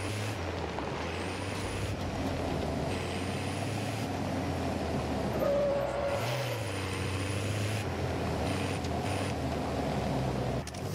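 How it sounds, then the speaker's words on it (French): A truck in Warzone 3 rumbles along with a continuous low engine drone and road noise, holding steady throughout with a brief pitch rise partway in, and no voices. "Je vais prendre le camtar et on va rouler"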